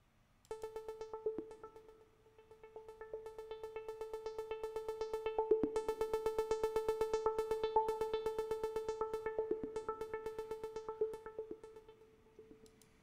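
A sustained VCV Rack synth tone with a slowly sweeping filter, swelling and fading volume, pan modulation, and a steady pulsing texture, played alone.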